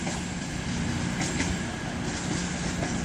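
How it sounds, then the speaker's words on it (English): A train rumbles past on the main line at Exeter St David's station, a loud continuous roar of wheels and engine with faint clatter, filling the whole stretch without pause. "Okay guys, that's that train."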